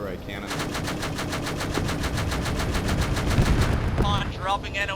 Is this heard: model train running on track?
no